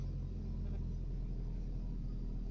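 A car reversing out of a parking space, a steady low engine rumble idling close by at low volume with no clear revving.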